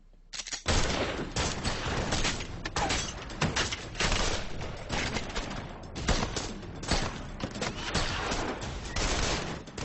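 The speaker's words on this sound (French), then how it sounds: "C'était la première fois qu'on assistait à une fusillade d'une telle ampleur." Gunfire during a bank robbery shootout, dense rapid bursts of shots cracking almost continuously, loud and harsh, with faint voices underneath.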